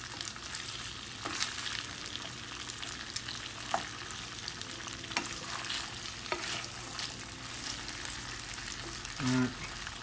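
Venison sausage and potatoes fry in a pan with a steady, quiet sizzle and crackle throughout, plus an occasional scrape of a utensil near the end.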